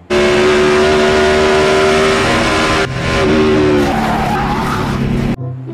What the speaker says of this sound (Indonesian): ada mobil Lightning McQueen.